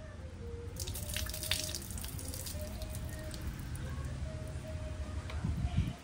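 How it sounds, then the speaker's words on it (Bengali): Water runs from a tap onto hands, a steady splashing flow with dripping and spattering throughout, fairly quiet and close. "হাতে জল যাচ্ছে"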